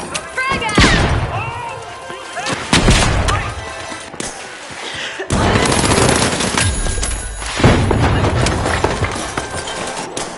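Gunfire and explosions from The Finals video game, loud and dense, with bursts of rapid shots and heavy blasts layered with game sounds and voices throughout.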